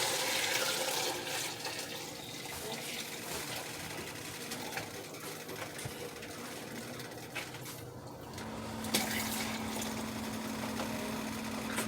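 Water runs steadily into a cooking pot for boiling rice in a home kitchen, a continuous splashing, hissing flow at close range with no talk.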